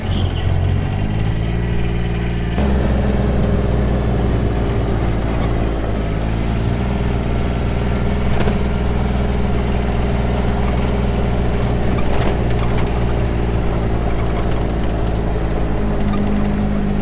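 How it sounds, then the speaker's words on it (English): A Gator utility vehicle engine runs at a steady idle close by, a constant low droning hum that shifts slightly in pitch early on and then holds even, with occasional faint knocks. "And now I need to swap this motorbike for the gator."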